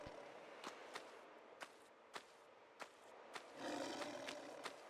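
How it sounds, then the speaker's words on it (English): A creature's roar swells briefly in the Tomb Raider video game, following a series of sharp, evenly spaced footsteps or taps in a small stone corridor. The roar is moderately loud and short, and no one speaks. "I heard a roar, but it might have been my stomach."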